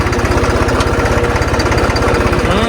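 A tractor engine with a shaft attached and smoking runs steadily and loudly nearby, its chugging beat fast and even throughout, with no voices.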